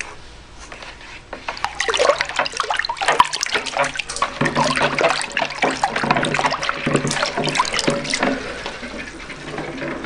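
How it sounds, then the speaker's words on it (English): Water is churned in a pot holding a Jetbeam Raptor flashlight under test, giving irregular splashing and sloshing that builds after a quiet start and continues for several seconds. "I'm going to go in here and stir up the pot a little bit."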